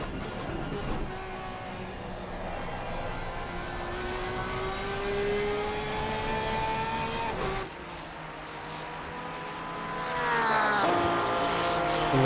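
Race car engine from a racing video game at Monza, a loud sustained high-pitched whine with rising harmonics as it accelerates, a brief drop near the middle as it shifts, then climbing again, with no talk over it.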